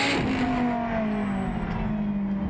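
GT racing cars battling on track during a GT Asia race, a loud engine drone with a rising then steadying pitch as a car passes close, continuous for the whole moment without voices.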